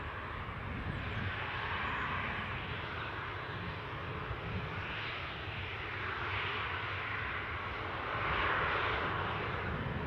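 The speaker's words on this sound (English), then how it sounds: "Just awaiting this Dublin flight's departure." An airliner on a Dublin flight departs Newcastle International Airport, its engines a steady, broad roar heard from a distance that swells slightly toward the end.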